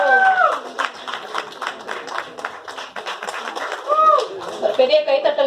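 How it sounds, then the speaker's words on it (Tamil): Audience applause at a Tamil film music launch event, a steady patter of many hands clapping through the whole stretch while an amplified voice speaks over it and music swells near the end. "ஒரு பெரிய கைத்தட்டல் கொடுக்கலாம்."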